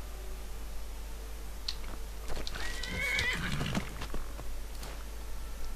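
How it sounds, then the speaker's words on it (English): A riderless horse in Skyrim whinnies clearly at mid-distance, with a few clip-clopping hoof steps on the ground and quiet background ambience. "Random horse with no owner?"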